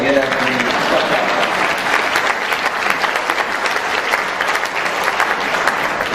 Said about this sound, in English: that you can applaud, I guess